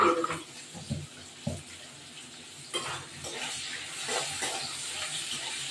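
Water goes into a pan of ground garlic, ginger and cumin for chicken curry, giving a few splashes and then a continuous sizzling hiss.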